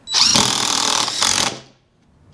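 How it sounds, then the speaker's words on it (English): An impact driver drives a screw into wood without a pilot hole: a loud, close, continuous rattling whir for about a second and a half, then it stops, followed by one short click. "it's basically hammering now the screw into the actual wood, and you're gonna hear it right now."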